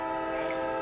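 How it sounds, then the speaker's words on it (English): A passing train sounding its horn, a steady, sustained multi-tone blare heard for under a second, fairly loud and clear with no talk over it. "That's the train."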